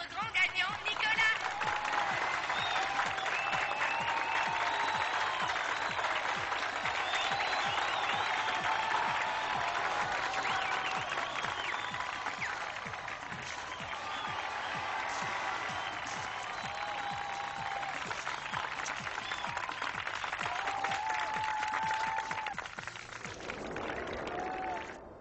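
A studio audience applauds the grand winner, Nicolas, of a contest in a telenovela. The clapping is dense and sustained for about twenty seconds with crowd noise and some voices mixed in, then fades out abruptly.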